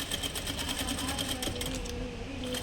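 A sewing machine stitching the end of thread piping on fabric: a steady, rapid whirring needle rhythm close by, running continuously and easing off near the end.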